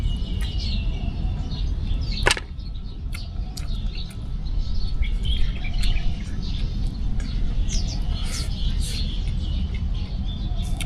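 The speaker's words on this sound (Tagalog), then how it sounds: "Maririnig mo ay mga kanta ng ibon," Scattered high bird chirps and tweets sound over a low rumbling background, brief calls popping up irregularly at a moderate distance, at a family business workplace.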